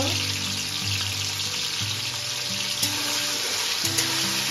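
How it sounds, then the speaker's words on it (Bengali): Bean seeds fry in a pan with oil, giving a steady sizzle and crackle with some brief, faint clinks. A low background hum runs underneath. "সিমের বিচিটা একটু ঢাকা দিয়ে ভাজতে হবে, তাহলে ফুটে গায়ে আসবে না"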